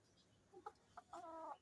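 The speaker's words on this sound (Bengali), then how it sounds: "এই দেখো মুরগি" Chickens clucking in a net-enclosed pen, a few short soft clucks followed by a longer drawn-out call, fairly quiet and alone with no talking.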